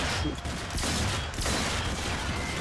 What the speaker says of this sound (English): Rapid fire.